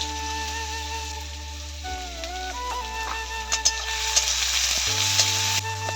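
Cumin seeds and chopped beans fry in hot oil in a kadai with a steady, close sizzle, sharpened by scattered pops and crackles over a low background hum.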